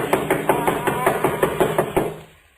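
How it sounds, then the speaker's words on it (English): Firm knocks on a wooden door in a 1940s radio horror drama, about a dozen evenly spaced raps in quick bursts, loud and close, with no voices over them before fading out. "I'll do the knocking."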